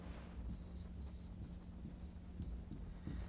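A pen scratches across paper in short, repeated strokes while a puzzle is worked out. The writing is quiet and close, with a low background hum.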